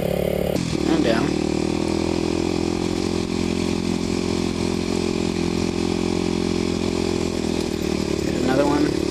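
Kawasaki KLX250sf supermoto motorcycle engine revving hard while riding off-road up rocky hills, a loud continuous buzzing drone with small throttle surges, close up, with a voice talking over it.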